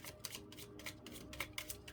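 Tarot cards being shuffled by hand close up, a quiet run of repeated crisp riffling bursts at an uneven rhythm over faint background hum.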